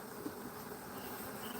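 Honeybees buzz thickly and without a break at a hive entrance during a swarm, a dense, close drone of many wings filling a short moment with no voices.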